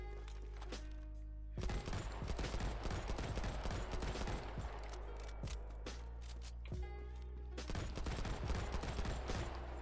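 Gunfire in the Modern Combat 5 battle royale shooter: bursts of rapid automatic shots crackle in clusters, pausing briefly between volleys, loud and close over a steady low game hum.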